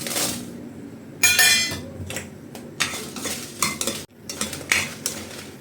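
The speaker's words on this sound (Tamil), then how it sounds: "இதுலேயே இப்போ காஞ்ச மிளகாயை போட்டுக்கலாம்" Dried red chillies roasting in a pan with jackfruit seeds, stirred with a metal spoon: repeated loud scrapes and clinks against the pan over a faint sizzle, with a brief cut to silence partway through.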